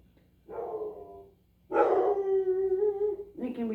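The landlord's dogs barking and howling nearby, with a short drawn-out howl followed by a longer, louder yowling howl and the start of another, close and fairly loud.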